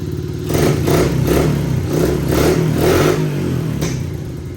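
A tired Honda CRF dirt bike, a small 70 or 100 with full exhaust and a carb needing adjustment, runs steadily close by, its single-cylinder engine rising in a few quick revs and falling back, with no talk over it.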